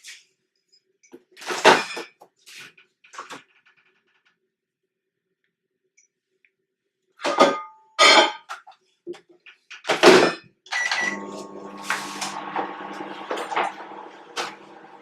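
A microwave oven door thunks and clicks amid scattered handling knocks while a chocolate mug cake is put in, followed by the steady hum of the running microwave; sounds are close with quiet gaps between them.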